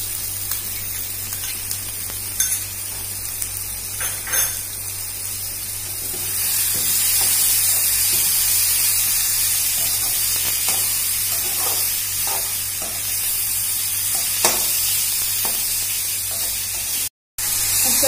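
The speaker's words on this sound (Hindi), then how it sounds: "अब हम इसमें अपने टमाटर डाल सकते हैं।" Tomatoes go into a pan of frying vegetables for veg fried rice, a loud steady sizzling hiss that swells about a third of the way in and keeps spraying, with a few sharp pops and a brief dropout near the end.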